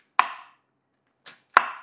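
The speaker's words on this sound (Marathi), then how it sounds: "ह्याला आपल्याला चोचून घ्यायचं आहे." A knife chops radish finely for a Maharashtrian radish koshimbir salad. Three crisp, close chops land on a board, the first alone and the last two close together after a long silent gap.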